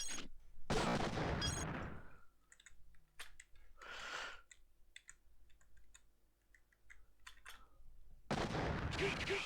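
Missiles fire in the video game Mega Man X7 as rapid clicky pops and bursts. Loud bursts sit at the start and end, with quieter scattered hits between them, and no voice over them.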